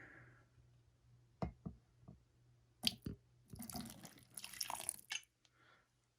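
Water poured into a tarantula enclosure trickles and drips in short splashes onto a surface close by, with a few soft clicks and rustles between pours.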